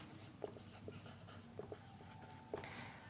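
Chalk or marker strokes on a board during a grammar lesson, a few short scratchy taps and scrapes spaced irregularly, faint and close in a quiet room with no talking.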